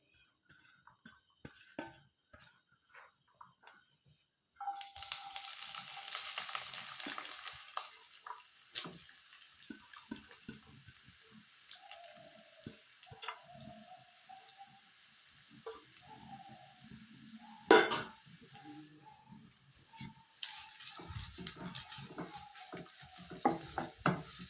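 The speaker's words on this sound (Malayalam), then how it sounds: "അപ്പോൾ നമുക്ക് ഇഞ്ചി ഒന്ന് നല്ലോണം ഒന്ന് മൂപ്പിച്ചെടുക്കാം." Ginger frying and sizzling in a pan for inji puli, a steady hiss that starts after a few quiet seconds, with stirring clatter and brief water sounds along the way, close by and without talk.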